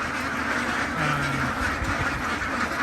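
CP Super laying ducks quack in a noisy, crowded flock, calls overlapping steadily through a broad wash of background hiss, with one clearer drawn-out call near the middle.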